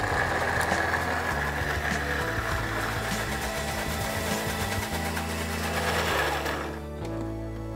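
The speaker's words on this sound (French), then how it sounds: "Nous allons mixer sans mettre de sel" Blender whirring steadily as it mixes pesto with olive oil and parmesan, a loud continuous motor drone with slight pitch changes, dropping off near the end.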